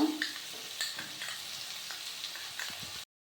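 Pumpkin pieces frying with mustard and poppy seed paste while being stirred: a soft, close sizzle with scattered scraping stir noises, stopping abruptly after about three seconds.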